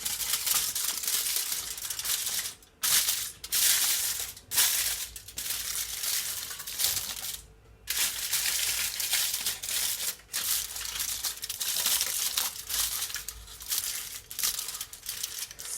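Aluminium foil is crinkled and pressed over a dish of baked mac and cheese, a close, loud, continuous rustling and crumpling with brief pauses between handfuls.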